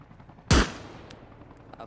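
A single sharp gunshot in the video game ARMA Reforger, loud and close, with a brief echoing tail fading under quiet background noise.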